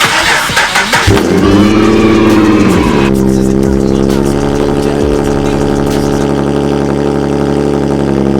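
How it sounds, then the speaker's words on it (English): A Nissan car engine cold-starts after sitting unused for four days: a cranking burst and catch in the first second, then a loud steady idle with a brief rev before settling into a lower, even rumble. "I really want a cold start, but it has not been started in about 4 days."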